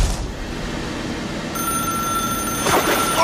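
An old telephone bell rings alone over a steady background hiss, a continuous bright jangling ring that grows slightly louder toward the end.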